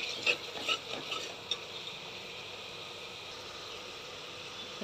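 Garlic-ginger paste sizzles in hot oil while being stirred for khichdi, with a few scraping spoon strokes at the start, then a soft, even frying hiss continuing quietly and close.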